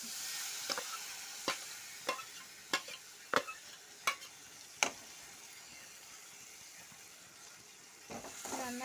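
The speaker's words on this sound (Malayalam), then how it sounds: "നന്നായിട്ട് ഇളക്കി കൊടുക്കണം" Ivy gourd pachadi stirred in a pan, a spoon scraping in a steady series of sharp clicks about every second over a soft sizzling hiss, with a brief wet rustle near the end.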